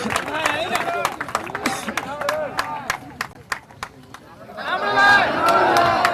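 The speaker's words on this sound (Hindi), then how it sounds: "गड़गड़ाहट तालियों के साथ" Applause from a crowd at a college Saraswati Puja farewell gathering, irregular claps mixed with cheering voices and chatter, swelling louder near the end.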